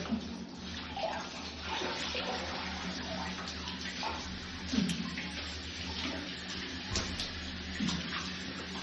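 Water is poured and splashes steadily over a pet being bathed, like a tap or bath filling, with occasional louder splashes; no talking.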